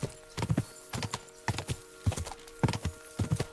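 Horse hooves clip-clop on the ground in Kingdom Come Deliverance 2, a steady rhythmic gait of close, distinct hoofbeats repeating in groups throughout.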